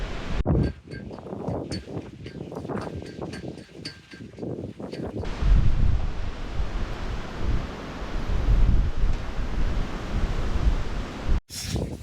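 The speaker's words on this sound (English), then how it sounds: "I'm trying to engineer a way that keeps my tent from flapping the least amount in the wind as possible." Strong wind buffets a tent at a bikepacking campsite on the Palouse trail, with irregular sharp fabric snaps and flaps at first, then a steady roaring gust rumble close to the microphone, ending in one abrupt dropout.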